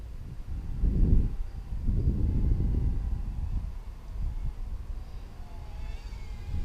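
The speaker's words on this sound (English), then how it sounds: "we do have some wind picking up on us" Wind gusting outdoors during a beginner Syma X21 quadcopter's maiden flight, low buffeting rumbles in bursts near the microphone, with a faint high drone whine rising toward the end.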